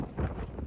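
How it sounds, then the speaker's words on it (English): Strong coastal wind near Cromer in North Norfolk buffets the microphone with a loud, steady low rumble and gusty roar throughout. "very, very windy here."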